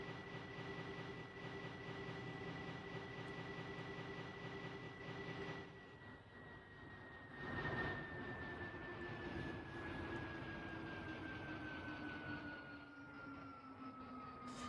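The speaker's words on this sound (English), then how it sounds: "So the acceleration and deceleration on these Shinkansen is actually pretty unrealistic." Shinkansen bullet train ride in the Minecraft game, a steady whining motor tone that slowly falls in pitch as the train decelerates, with a brief rushing swell midway, fairly quiet and without talk.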